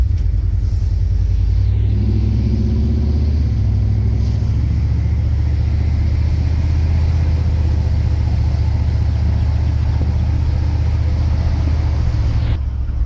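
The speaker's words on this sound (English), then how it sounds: "Man, this truck drives good." A 1989 Chevrolet Silverado pickup drives along with a steady low engine rumble and road drone that holds evenly throughout, with no talking.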